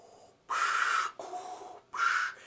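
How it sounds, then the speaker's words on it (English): Darth Vader's slow, heavy mechanical breathing: three long hissing inhales and exhales in steady rhythm, loud and close, with nothing else around them. "You just hear Vader's breathing"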